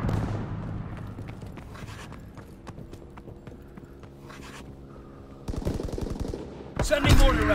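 Aircraft strafing fire in Call of Duty WWII rattles as rapid repeated shots over battle noise. It grows louder and denser toward the end, with a heavy burst in the final second.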